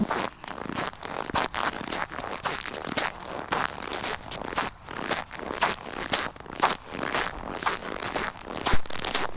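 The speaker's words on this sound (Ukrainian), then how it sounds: "скрип снігу." Snow creaks underfoot in a winter forest, a steady run of crisp, crunchy steps that repeat close by at a regular walking pace, with nothing else heard.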